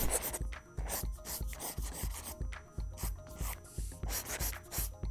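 A felt-nib stylus drawn across a paper-feel screen protector on a BOOX Note Air e-reader gives faint, dry scratchy rubbing strokes in a steady back-and-forth rhythm, close up with no voices.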